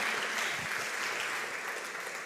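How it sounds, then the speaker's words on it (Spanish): Dense crowd applause from a church congregation during a Spanish-language sermon, a steady continuous wash of many hands clapping, moderately loud and sustained throughout with no one speaking. "Dale un aplauso al Señor."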